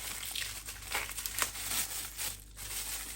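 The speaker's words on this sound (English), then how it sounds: "I recommend some scissors to be able to get into it and to get all that packaging off it." Plastic packaging crinkles and tears up close as it is removed from a frozen beef roast, with irregular rustling bursts and brief rips, fairly quiet, without talk.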